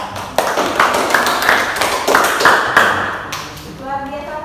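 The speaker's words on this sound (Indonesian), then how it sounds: "Kita beri tepuk tangan sekali lagi untuk kelompok 3." Students in a classroom give a group a round of applause, a burst of clapping with sharp hand claps that swells and then thins out, with voices mixed in.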